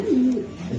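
A single pigeon gives one soft, low coo, close by and brief, over a faint background hiss.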